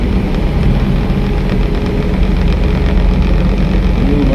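A car driven along a forested road past a lake and river rumbles with a steady low engine drone and road noise, continuous and fairly loud throughout, with no voices.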